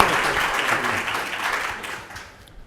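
A debate audience claps steadily for a couple of seconds, the applause thinning out and fading toward the end.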